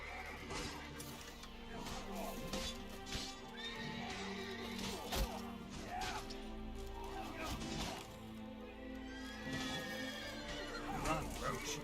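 A horse gallops and neighs in the game The Witcher 3, with steady rhythmic hoofbeats, several whinnies, and a constant background of game sound and music throughout.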